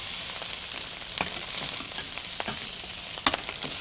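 Sausage sizzles and fries in a skillet for jambalaya, a steady crackling hiss broken by a few sharp pops and spatters, close and clear with no talking.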